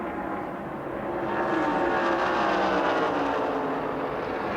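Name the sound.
NASCAR stock cars racing around the track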